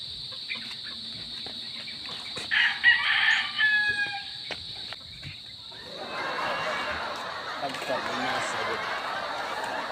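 A rooster crows partway through amid scattered clucking from nearby chickens, with voices talking and a steady background hum.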